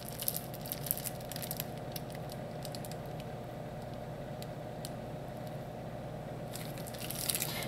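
Pastry dough is piped onto parchment paper for Trinidad tuna puffs, giving soft, faint squishing and light tapping sounds in a quiet kitchen with no talking.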